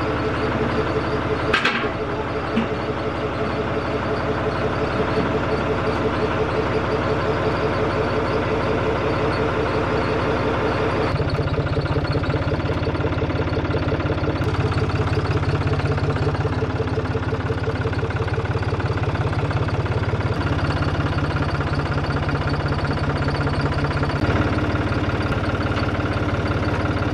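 A tractor engine runs steadily while a shipping container is being moved, a continuous low idling rumble with slight shifts in load, one sharp knock near the start and faint voices underneath.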